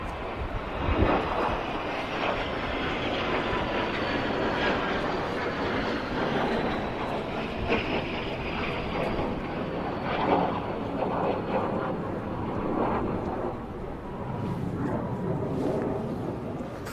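Aircraft fly over at the Royal International Air Tattoo, a steady broad jet roar rising and swelling across the whole stretch, fairly loud and continuous with slight surges as they pass.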